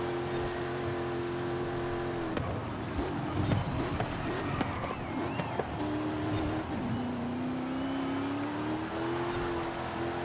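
A car engine hums and whines in Forza Horizon 5, a steady drone that breaks into rough revving mid-way, then settles into a rising tone as the all-wheel-drive car accelerates, with a voice talking over it.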